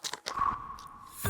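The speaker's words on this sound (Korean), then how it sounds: "근데 씹는 것도 힘들겠다" Soft, close chewing with a few quick crunchy bites, then a moist squishing as food is worked in the mouth, brief and quiet.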